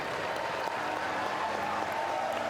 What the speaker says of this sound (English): gets a round of applause as he comes off the mound